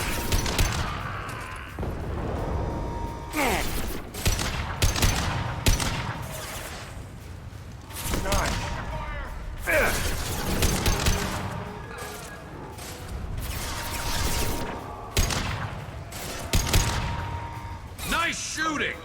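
Gunfire in the video game Mass Effect Legendary Edition, repeated bursts and sharp shots scattered across a busy battle soundscape, with voices speaking between and over the shooting.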